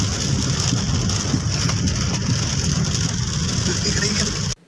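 Sudden rain pours down in Telangana, a steady broadband hiss of rainfall with a low rumble underneath that stays even throughout before cutting off abruptly at the end.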